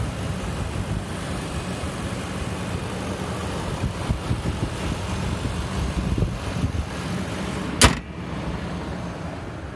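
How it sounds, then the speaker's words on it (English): A 2012 Nissan Titan King Cab Pro 4x4 pickup truck engine idles with a steady low rumble throughout, and a brief sharp click or knock sounds near the end. "fine sounding engine."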